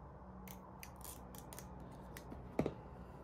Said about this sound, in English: Ooh, these are terrible scissors.